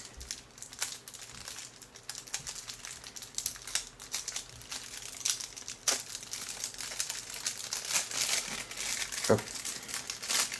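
Plastic packaging around action cam mounts being opened by hand, giving close, quiet crinkling and rustling that comes in irregular bursts, with a single short spoken word.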